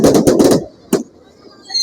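Fireworks go off during a religious feast procession for the Holy Cross in Tanza, on a baywalk. A rapid burst of four loud cracks is followed by a single sharp bang, then near silence.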